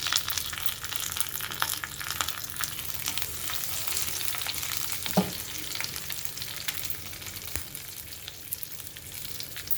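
Cumin seeds and curry leaves sizzle in hot oil in a kadai, a continuous close frying hiss with scattered pops and one brief sharper crackle midway.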